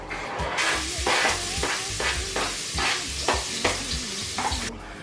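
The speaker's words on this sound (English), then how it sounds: "I'm going to put a little bit of coconut oil, and then I'm going to just sweat some onions and some garlic" Onions and garlic sweating in coconut oil in a pot, a steady sizzle and hiss with repeated scraping stirs at a fairly even rhythm, close and moderately loud with no talk.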